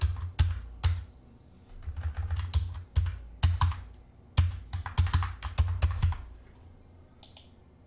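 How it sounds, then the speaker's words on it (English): Rapid, uneven keyboard typing in bursts of clicks and clacks, close by, with a brief pause near the end. "Maybe I'm just typing too fast."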